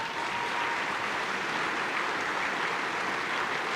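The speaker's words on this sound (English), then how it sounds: "So let's give the" An audience at the State of the Port of Los Angeles event applauds the ILWU dock workers union, with steady, dense clapping throughout before it cuts off.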